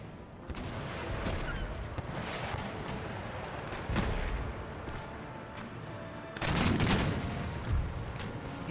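Ship cannon fire against a brig in an Empire: Total War naval battle, a continuous rumble of broadside shots with heavy booms at intervals and a louder burst near the end.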